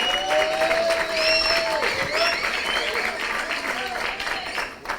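Sustained crowd applause for Samson Wawero, a white cane user, at a meeting of people living with disabilities at Ngong Racecourse. The clapping stays loud and steady throughout, with voices and cheers over it.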